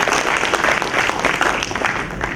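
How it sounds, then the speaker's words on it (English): Audience applause for students at a Siemens and UniMAP program event: a short, loud burst of many hands clapping together, continuous and crowded for the whole stretch. "Give yourself a round of applause for that."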